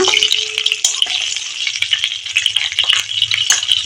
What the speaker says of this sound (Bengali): আমি এখন মাছের মাথাটা ভেজে নিচ্ছি, এটা রুই মাছের মাথা।